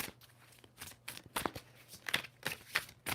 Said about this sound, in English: 2 more shuffles for Taurus.